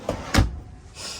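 Long cabinet drawers in a 2016 Winnebago Minnie Winnie 25B RV being handled, two quick close knocks and thumps followed by a soft sliding hiss.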